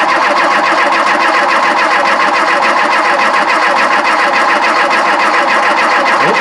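Volvo 340, abandoned for 25 years and fed fresh fuel, cranks steadily on the starter with a loud, continuous rhythmic churning that never settles into a running idle.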